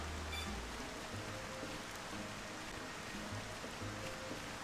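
Rain in the video game Xenoblade Chronicles makes a soft, constant wash of falling water with faint low thuds, a quiet, even ambience with no one talking.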